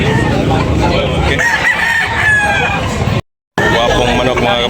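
Roosters crow and cluck at a poultry market in Tabunok, Talisay, Cebu, loud and close, with a long crow through the middle, someone speaking briefly and a short dropout in the sound.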